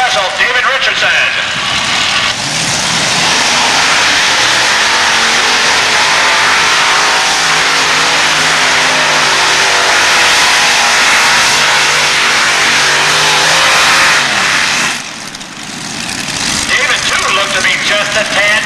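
A pulling truck, the Kodiak special, roars at full throttle during a truck and tractor pull, a loud sustained engine blare lasting about fifteen seconds before cutting back, with an announcer talking over it.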